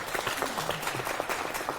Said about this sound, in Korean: 이건 박수 나와야 될 것 같습니다